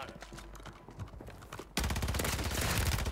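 Video game gunfire from a multiplayer shooter: quieter broadband bursts early, then from about 1.7 seconds a loud, dense run of rapid shots that continues to the end, with no speech over it.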